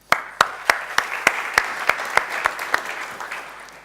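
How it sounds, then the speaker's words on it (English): Conference audience applause for a speaker on microservices and containers: a run of distinct, evenly spaced claps that thins and fades over a few seconds, sounding like a modest crowd in a hall. "Don't clap too much because we want to leave time for questions at the end."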